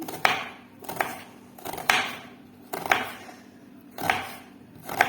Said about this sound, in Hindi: इस तरह से मैं प्याज की कटिंग कर लूंगी, बारीक बारीक करके इसको मैं काटूंगी।